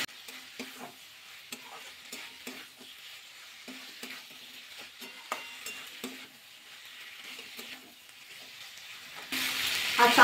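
Cauliflower with spices and kabuli chickpeas being sautéed in a pan: soft sizzling under repeated scraping and stirring strokes of a spoon, with a louder burst of frying near the end.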